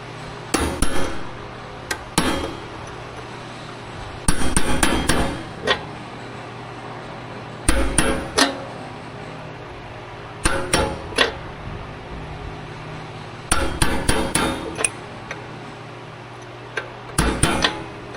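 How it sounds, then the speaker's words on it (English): Sharp metal hammer strikes on a punch driving out a roll pin ring out in quick bursts of several blows, separated by short pauses, close and fairly loud. "So I'm gonna hammer that out"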